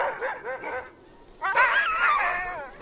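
Sled dogs on a trail to a hunting cabin yip, whine and bark in eager bursts, close and loud, with a short lull before a steadier chorus of excited whimpering howls.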